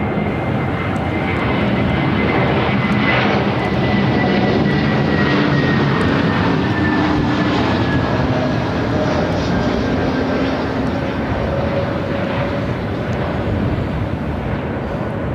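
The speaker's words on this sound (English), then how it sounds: "It's a United A321 Neo next arrival." A United Airbus A321neo jet airliner arrives at LAX with a continuous loud engine roar and a slowly falling whine that holds steady throughout as it passes close by.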